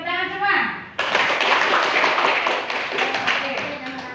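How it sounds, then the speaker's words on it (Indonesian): Students in a classroom burst into clapping right after a brief spoken voice, a close, lively round of applause continuing for about three seconds. "Tepuk tangan semua."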